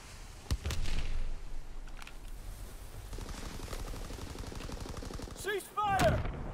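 Gunfire crackles through a World War II battle in Call of Duty WW2, with sharp close shots and sustained bursts layered over a busy, loud combat din, ending in a strong final burst.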